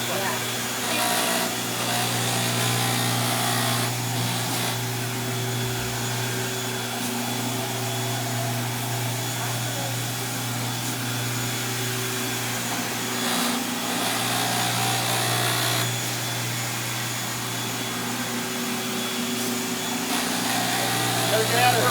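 A vacuum cleaner runs steadily during cleaning, a continuous loud hum and whine held throughout, with people talking over it.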